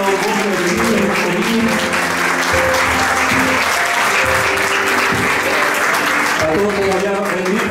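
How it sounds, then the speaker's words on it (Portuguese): Congregation applause at a religious gathering, loud and sustained clapping from a large crowd over several seconds, with voices and murmuring mixed in beneath the steady roar. "aplauso al Señor, a ustedes también."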